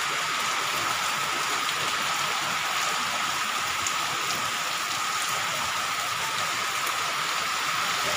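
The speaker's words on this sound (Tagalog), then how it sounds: "Lakas ng ulan." Heavy typhoon rain pours steadily onto a roof and surfaces around a home kitchen, a dense, even hiss that holds at constant loudness throughout, with no voices.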